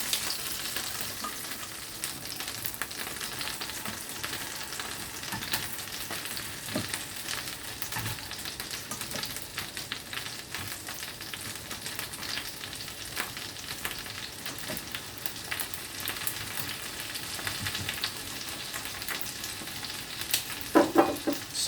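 Potatoes frying in a pan for fondant potatoes, a continuous close sizzle with steady crackling and occasional pops, the heat turned down slightly, no talking.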